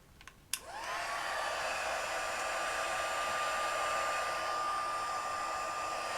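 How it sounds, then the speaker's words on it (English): A heat tool blows steadily while drying paint on a craft project, a close, even whoosh and hum that starts after a brief click and runs on unbroken with no talking. "And now we'll dry it a bit."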